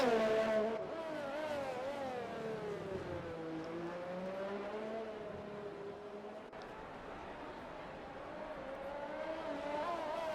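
Race car engines from an online F1 league race at the Singapore circuit in a racing video game whine steadily, pitch rising and falling with gear changes. The sound is continuous and moderately loud, with no talk over it.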